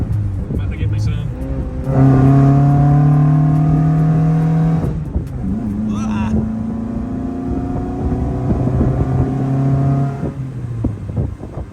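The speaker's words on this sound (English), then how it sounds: "It's got a killer exhaust note." A 1979 Fiat 124 Spider 2000 engine with dual 44 IDF carburetors revs and drones with strong harmonic exhaust tones, rising and holding, loud and close, with some voices mixed in.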